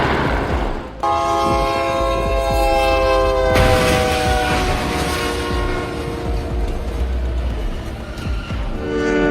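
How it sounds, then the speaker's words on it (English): A train with its loud horn blaring in long sustained blasts, plus heavy rumbling and clatter as it strikes a truck on the tracks at a quarry crossing in Stony Middleton, the crash noise continuous and close throughout. "the truck ran onto the train tracks and was hit by the train"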